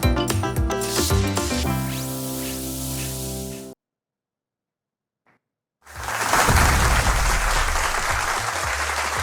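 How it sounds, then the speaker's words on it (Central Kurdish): A studio audience bursts into loud, sustained applause after a musical passage and a brief silent gap, the clapping dense and close. "زۆر سپاس بۆ چەپڵەکانتان"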